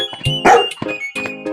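Dogs barking in a village, several sharp close barks and yips in quick irregular bursts, loud and clear with short gaps between.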